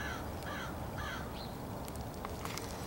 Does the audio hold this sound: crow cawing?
yes